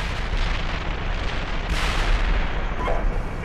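Tank cannon fire in the Steel Beasts simulator: a dense, continuous low rumble of battle with a sharper burst partway through, loud and without talking.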